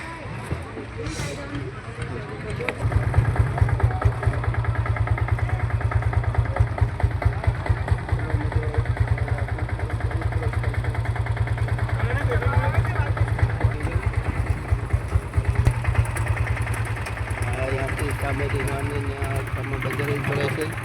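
An auto rickshaw engine idles with a steady, rapid putter at a fishing harbour, starting a few seconds in and running continuously under faint background voices.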